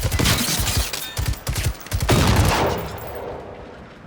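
Gunfire in the video game Generation Zero, a rapid close burst of loud shots followed by a heavy blast that rings out and fades.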